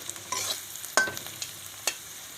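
Ginger and garlic frying with pork in a pan, stirred with a few sharp spoon scrapes and clinks over a soft continuous sizzle, close up with no voices.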